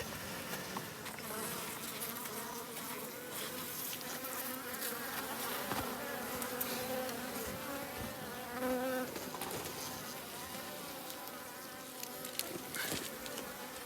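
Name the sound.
honeybees buzzing in a hive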